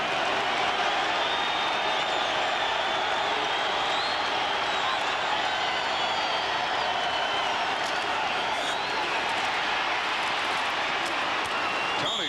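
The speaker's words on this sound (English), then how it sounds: "We have a machine here to measure the crowd noise here in the Kingdome." Loud, dense roar of a stadium crowd inside the Kingdome during a 1986 Eagles versus Seahawks football game, a sustained wall of cheering and noise holding steady throughout.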